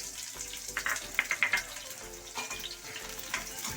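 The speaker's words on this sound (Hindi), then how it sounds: "अपने प्याज टमाटर फ्राई करेंगे।" Onions and tomatoes frying in oil in a pan for a paneer curry, with a low crackling sizzle and scattered clinks and pops, fairly quiet and with no talking.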